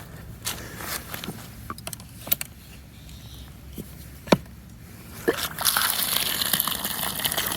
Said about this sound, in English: We got water.